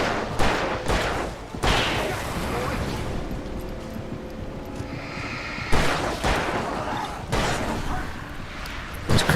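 Gunfire in Alan Wake Remastered, several sharp loud shots spaced irregularly across the scene, with game noise and someone talking between them.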